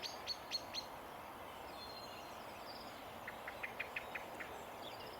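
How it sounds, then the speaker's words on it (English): A blackbird calls from a distance on a countryside walk along an old straight Roman road near Fulbourn, Cambridgeshire, with a few faint, sharp chirps in bursts against quiet open-air background. "Blackbird's got wind of me over there."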